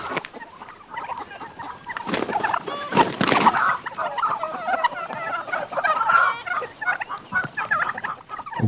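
Several male turkeys gobble and cluck threateningly during a farmyard fight, with loud overlapping bursts that peak sharply in the middle and continue as a steady, agitated chorus of fowl calls.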